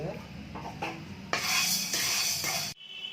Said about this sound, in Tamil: பயிர் ஒரு இருபத்தஞ்சி கிராம் வறுத்துக்கோங்க